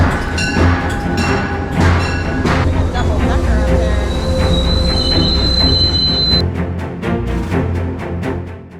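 A train ride out of Fitchburg toward Boston, with loud metallic wheel squeals ringing over a steady rumble of wheels on rails and faint rhythmic clacks, heard from inside a car.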